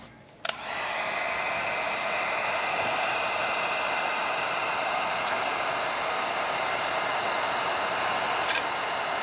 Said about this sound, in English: Where the heat gun will come into play.